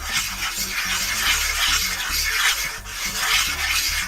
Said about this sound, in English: we melted our butter, we put our flour in now, and we're just going to mix it